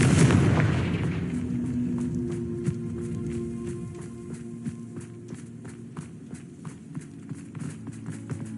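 A loud blast bursts out at the start as a Confringo fire spell explodes in Hogwarts Legacy, then fades into a low hum with quick footsteps pattering through the rest.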